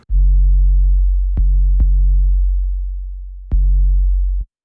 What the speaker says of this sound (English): And that comes from our 808